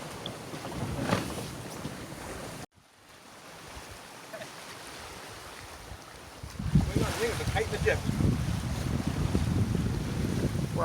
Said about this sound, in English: Our boat sails beautifully in these conditions, and usually the kite, or spinnaker, pulls us along at close to wind speed.